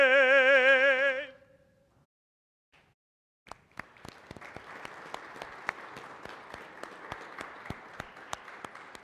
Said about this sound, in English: Round of applause for our Admiral William F. Halsey, Jr.